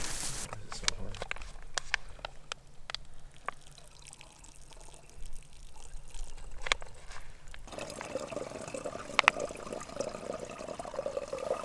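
Running water trickles and splashes in backcountry high country during a mule deer hunt as water is collected, a faint steady flow with scattered drips and clicks that grows fuller toward the end.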